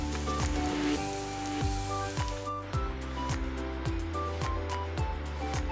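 Food frying in a hot pan until reddish gives a steady broadband sizzle, heard continuously beneath rhythmic background music with a thumping beat.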